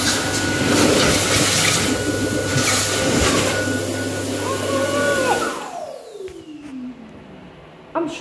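A Dyson Airblade AB01 hand dryer at a railway station platform blasts a loud, steady roar, then cuts out and winds down with a falling whine into quieter station background.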